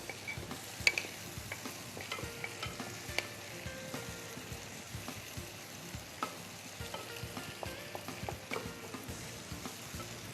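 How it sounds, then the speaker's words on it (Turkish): Onions and sausages fry in a pan, a steady sizzle broken by frequent crackles and small pops, close and fairly quiet with no voices. "soğan sosislerimiz de tavamızda güzel böyle kavrulmaya başladı"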